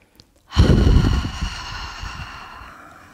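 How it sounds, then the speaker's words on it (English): After a brief quiet moment, one long, audible breath is pushed out through an open mouth during a seated chair-yoga breathing exercise, starting strong and tapering off gradually. "Open your mouth, exhale through the mouth."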